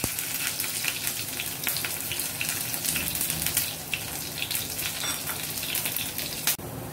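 Mustard seeds and chopped small shallots fry in hot oil, giving a steady, fairly quiet crackling sizzle with scattered pops throughout, close by, with no talking.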